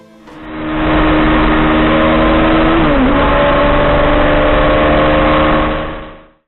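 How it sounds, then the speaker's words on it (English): Kawasaki Z800 inline four-cylinder motorcycle engine revving loud and close, holding a steady high-pitched wail with a brief dip in pitch midway before climbing again, then fading at the end. "It's just pure 4-cylinder symphony."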